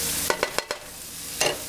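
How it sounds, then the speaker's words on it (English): Butter and shallots frying in a pan, a steady close sizzle broken by a few sharp stirring scrapes and clicks, with no talk. "Man, that's a nice smell of the butter and the shallots together. You can hear that sizzle."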